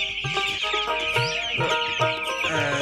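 A Paris breed chicken, a heavy bird that can weigh 8 to 10 kilograms, clucks repeatedly and loudly up close in a steady run of short calls, with no talk.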